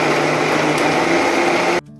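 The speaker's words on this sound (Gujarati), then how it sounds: "પછી આપણે આને મિક્સર ગ્રાઇન્ડરમાં ક્રશ કરી નાખવાનું છે" A mixer grinder crushes dried coconut pieces with water, a loud, steady high-pitched motor whine with a churning blade roar that runs evenly, then cuts off abruptly near the end, leaving only a faint hum.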